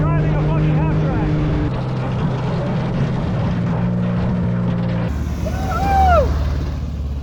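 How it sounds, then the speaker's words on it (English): A half-track military vehicle engine while driving, a loud steady drone with rough rumbling and shifting pitch throughout. "I'm actually driving a fucking half-track."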